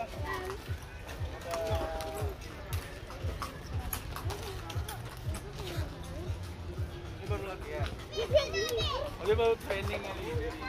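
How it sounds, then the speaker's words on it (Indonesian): Horse hooves clip-clop in a quick, steady rhythm during pony rides at Scientia Square Park, heard close under children's chatter and other voices. "Oh, ini naik kuda, Bang."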